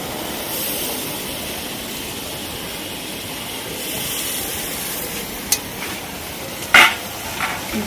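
Chicken curry is stirred in a karai, dhaba style, with a soft steady scraping and faint sizzle underneath, plus a couple of sharper clinks of the spoon against the pan near the end.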